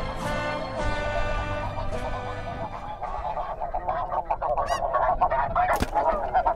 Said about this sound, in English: Finally, we got a snow goose.